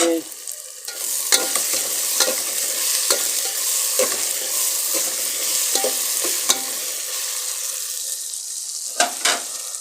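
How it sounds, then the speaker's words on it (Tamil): Tomatoes sizzle and fry in a pan for chicken curry while a utensil stirs them, giving steady broadband sizzling broken by repeated scraping strokes, close and fairly loud with no talking. "இதுக்கு தக்காளியை போட்டுக்கலாம்"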